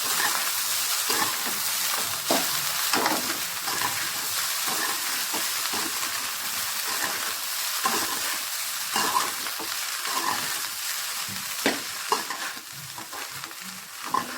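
Rice stirred through hot frying oil, a steady bright sizzle broken by irregular scraping strokes of the spoon against the pan, close and continuous with no talk.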